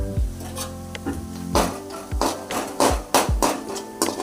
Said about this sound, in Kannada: ಇದನ್ನ ಫ್ರೈ ಮಾಡಬೇಕು